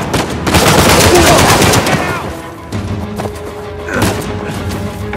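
A machine gun turret in Uncharted 4 rips off loud, rapid bursts of fire with booming impacts, close and harsh, easing into scattered shots near the end.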